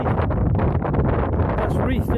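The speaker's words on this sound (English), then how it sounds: "Very windy" Strong wind gusting across the exposed hilltop ridge of Fremington Edge, a steady loud roar buffeting the microphone throughout, with no break in the rush.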